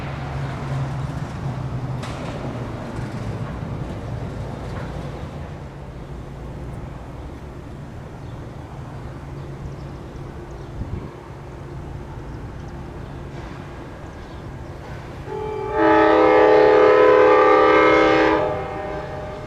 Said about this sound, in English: find Amtrak's southbound Crescent arriving to Union Station